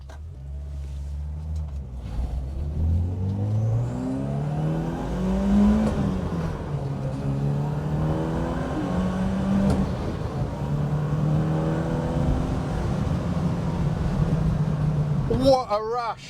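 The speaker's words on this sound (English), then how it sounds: "that turbo is always there whistling in the background" A BMW 2002 Turbo accelerating hard, engine note rising through the revs with a turbo whistle running in the background, a gear change midway, steady and fairly loud from inside the car.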